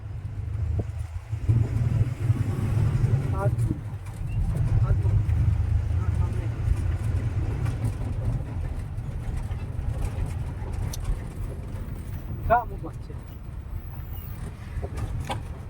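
A car's engine holds a steady low hum throughout a driving lesson, with people talking over it and occasional pigeon coos nearby.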